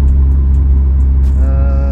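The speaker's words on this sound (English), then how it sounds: "So we're just gonna go rip around the block, test out these coilovers" A Hyper Blue Mitsubishi Evo 8 on freshly installed coilovers cruises around the block, its engine holding a loud, steady low drone with a constant rumble throughout.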